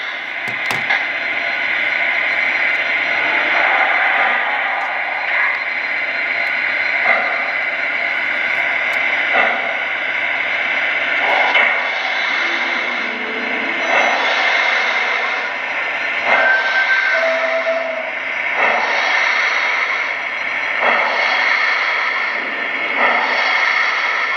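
Continuous mechanical engine noise from a Lionel Southern Pacific 4426 GS-3 model steam locomotive, a steady rhythmic chuffing hum that runs throughout with slight pulsing, fairly loud and close.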